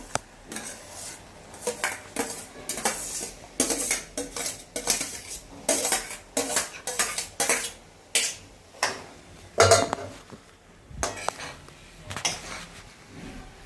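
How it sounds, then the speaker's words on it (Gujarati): Cooked rice with potato, carrot and peas is tipped into a pan for vegetable pulao. A spoon clinks and scrapes against the metal pan in repeated bursts, close and clear, with no talking. "હવે આપણે આ જે ભાત ઓસાયા હતા બટાકા ગાજર અને વટાણા નાખીને એ નાખી દઈશું"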